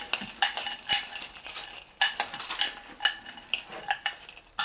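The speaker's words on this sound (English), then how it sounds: "Give this a nice stir." A spoon stirs a thick no-bake peanut butter bar mixture in a pan, giving repeated close scraping clinks against the metal in an uneven rhythm with no talk.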